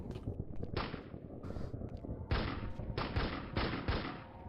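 Video game gunfire aimed at a creature: a few sharp, loud bursts of shots with a sparse, spaced rhythm, close by, over a low rumbling game background.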